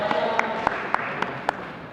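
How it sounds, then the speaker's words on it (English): A few people in a medical lecture audience clap in a thin, evenly spaced rhythm, about a handful of sharp claps over a steady room hum, without a full ovation. "We'll give a good round of applause."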